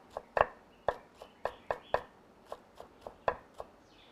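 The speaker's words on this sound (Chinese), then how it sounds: "切点点大葱末" Scallions chopped with a knife on a board: a dozen or so crisp, irregular taps, some doubled, fairly quiet and close in an otherwise still kitchen.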